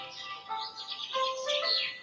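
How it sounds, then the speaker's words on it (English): Several birds chirp and tweet close by in a quiet natural setting in Sikkim, bright short calls overlapping in a steady stream with no voices. "we can now also hear so many birds chirping"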